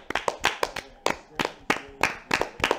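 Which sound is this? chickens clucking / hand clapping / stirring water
hand clapping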